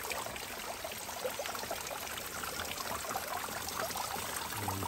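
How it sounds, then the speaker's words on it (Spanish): Water flowing from a spring fountain at Pilón los Naranjos in El Salvador, a steady close trickling stream with soft splashing and pouring, constant and moderately loud with no talk. "Mira cómo llora el agua."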